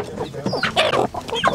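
Indigenous chickens cluck and squawk up close on a small farm that also keeps pigs, a loud, busy burst of overlapping calls without speech.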